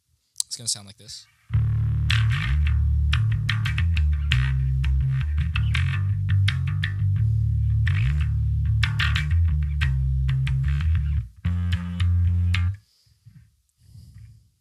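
Bass guitar played through effects with a distorted, chorus-like tone, a rhythmic post-chorus line from the song "Green Space". Steady and loud for about eleven seconds, a short pause, then a brief burst before it stops, with a faint voice at the very start.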